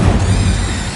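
The Incendio fire spell in Hogwarts Legacy roars as a dense, steady crackling whoosh of flame, loud and continuous through the short moment, slowly easing off toward the end.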